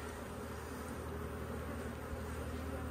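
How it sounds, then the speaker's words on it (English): A steady, faint buzzing hum of many honey bees flying through the air after being shaken out of a hive box, continuous with no talking. "There's kind of some bees flying around all over the place"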